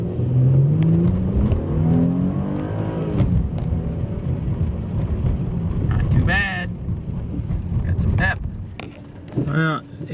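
A 2014 Mercedes-Benz C300 4Matic accelerates from a standstill to 40 mph, its engine note climbing through upshifts with a steady drone of road and cabin noise, while a voice talks briefly over it.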